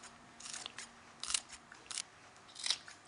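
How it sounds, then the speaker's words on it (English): Scissors snipping spring onion into a salad, with about four crisp crunchy snips spaced irregularly, close and quiet. "And now a spring onion. I'm just going to snip it in."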